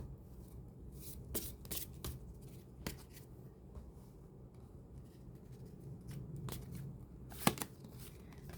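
Tarot cards are drawn and laid out on a table, a quiet, close patter of soft card slides, rubs and taps, with one sharper snap near the end.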